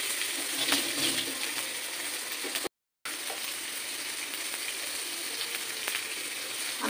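Onions frying in a pan for a biryani, a steady fine sizzle and crackle running throughout at moderate level, briefly cut by a moment of silence partway through.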